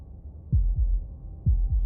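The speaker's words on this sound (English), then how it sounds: "That was the sound of a heartbeat, followed by another" Heartbeat sound effect from the video game Slay the Princess: two pairs of deep, thudding lub-dub beats, loud and close against a low hum, with no talking.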